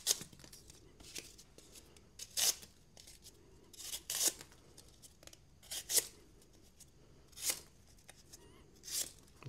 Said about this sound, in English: I am cutting through tape and cardboard.